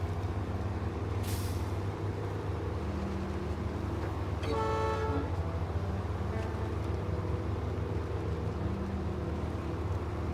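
A truck's horn in a bridge-building video game sounds one brief loud blast over a steady low engine rumble, with a short hiss of air brakes just before.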